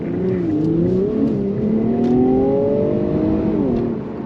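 A 2022 Infiniti Q60 Red Sport 400 pulls hard on a wet road, its engine and exhaust note rising in pitch through the revs with a brief dip at a shift, a smooth, moderately loud drone heard from inside.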